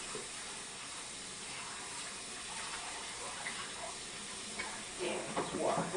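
Hot water pours from a tap in a steady, fairly quiet rushing stream that swells a little near the end, with brief faint voice sounds behind it.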